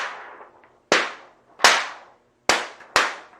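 A DTF transfer sheet thumped against a trash can to knock off excess powder, four sharp slapping cracks at uneven intervals, each ringing briefly into silence.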